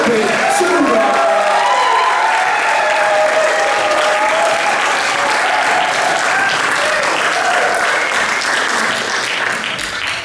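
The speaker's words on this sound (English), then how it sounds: "Please, help me with a nice round of applause." Sustained applause and cheering from an audience at a poetry and spoken-word recital, welcoming a performer to the stage, with whoops and crowd voices over dense continuous clapping that holds steady for about ten seconds.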